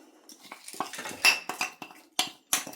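A spoon scrapes and clinks against a metal pan in quick, irregular strokes as poha is dry-fried with ghee, close and fairly quiet, with sharper knocks near the end.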